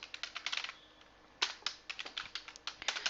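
Code being typed on a computer keyboard: quiet, quick bursts of keystrokes with a short pause before the tapping resumes in uneven runs.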